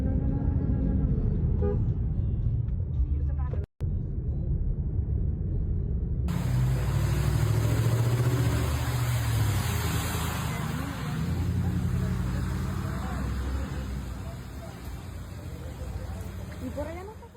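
A car drives through flood water on a Chicago street during a flash flood, its engine a steady, loud rumble with a swell of road noise and splashing partway through, while people talk inside.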